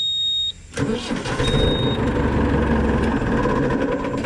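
After a brief quiet moment, a 1983 Ford 7610 tractor engine cranks and fires up, then runs with a loud, steady diesel rumble close by, with no speech.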